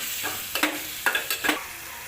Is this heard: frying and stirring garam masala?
yes